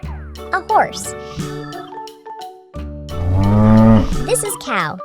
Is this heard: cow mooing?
yes